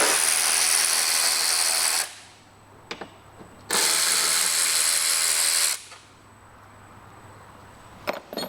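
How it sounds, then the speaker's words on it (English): A 5 mm Allen key works screws out of a folding rack on a Vespa GT200, heard as two long, loud bursts of dense metallic ratcheting separated by quiet pauses with light taps. "Actually a 5mm Allen, and you get those screws taken out."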